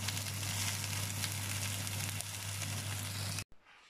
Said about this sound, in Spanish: Y aparte de los macarrones, pues las estoy friendo unas chuletitas